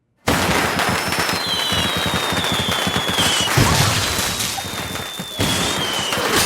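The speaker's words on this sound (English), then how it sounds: "This firecracker, the biggest one we ever had" A large firework in a kaiju monster movie with Anne Hathaway erupts as a dense, continuous crackling barrage, loud and sustained throughout, with whistling streaks overhead and a brief dip before the bursts resume.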